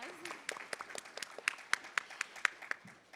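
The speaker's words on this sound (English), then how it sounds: "Yeah, let's give them a round of applause." An audience at a climate summit claps for young student leaders, a sparse scattering of distinct hand claps that grows more regular and spaced, moderately close, with a faint voice at the start.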